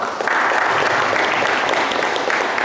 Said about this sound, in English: Let's just give a round of applause for Mark Williams for putting this all together.